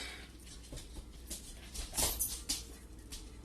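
In a kitchen, a dog lets out a few faint, short whimpering whines that cluster near the middle over a quiet background.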